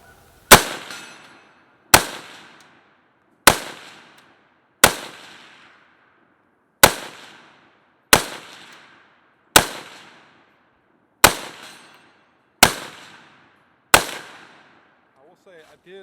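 Palmetto State Armory AKP rifle fired at an outdoor range, about ten single sharp shots spaced roughly one to two seconds apart, each loud crack followed by a short decaying echo.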